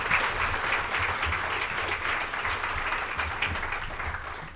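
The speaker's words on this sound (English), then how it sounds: "So give her a round of applause as she comes up today." Audience at a community breakfast event applauding steadily, a dense wash of many hands clapping at moderate distance, sustained and even throughout.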